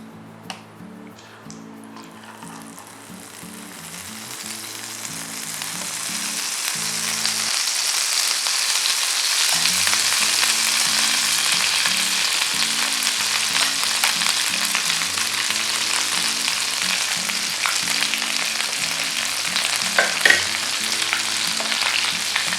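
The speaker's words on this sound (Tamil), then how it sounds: "இப்போது இந்த மாதிரி ப்ரெட்டை நம்ம நல்லா டிப் பண்ணி ஃப்ரை பண்ணோம்." Bread slices dipped in batter fry in hot oil with a steady, dense sizzle that swells and holds loud and close for the whole stretch, with occasional faint clicks and a low hum underneath.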